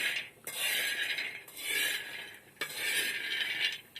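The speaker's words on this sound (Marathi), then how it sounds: "आपण आता भाजून घेऊ शेंगदाणे" Peanuts dry-roasting in a pan for shengdana poli, stirred in three long scraping sweeps with clinking and rattling of nuts against the metal, fairly close and steady, with no talking.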